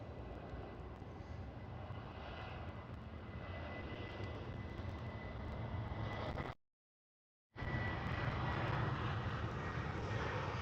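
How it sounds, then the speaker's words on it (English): KLM Boeing 737-700 jet at Schiphol airport, Amsterdam: a steady, broad engine roar holding loud and constant throughout, broken by a brief full dropout near the end, with no talk. "KLM 737 700, nice and early action"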